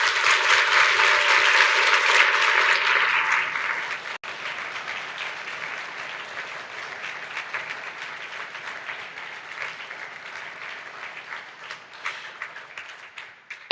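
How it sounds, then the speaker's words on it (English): Loud, dense clapping from a hall audience closing the physics debate rounds of the German Young Physicists' Tournament final, strongest for the first few seconds, then dropping to a softer, steady patter that trails on. "Big round of applause to everyone"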